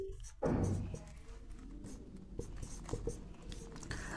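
Someone writes the word chloroform on a board, giving a sharp first stroke followed by a run of light scratchy strokes and taps at close range.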